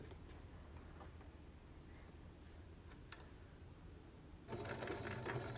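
A sewing machine stitches binding onto a quilt with slow, faint, ticking stitches, then runs louder and faster for the last second.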